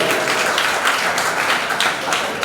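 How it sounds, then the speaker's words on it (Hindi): Audience applause at a Jain religious festival celebration with discourse: a sustained wash of many hands clapping at moderate volume, continuous and fairly even throughout. "बजाओ तालियां उनके सम्मान में जो स्कूल को बढ़ा रहे हैं।"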